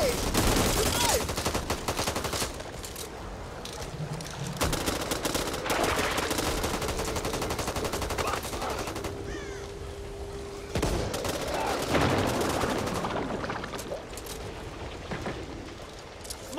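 Rapid video-game gunfire from Back 4 Blood, with bursts of automatic shots and sharp single cracks layered over combat noise, loud and close, and a voice occasionally cutting through.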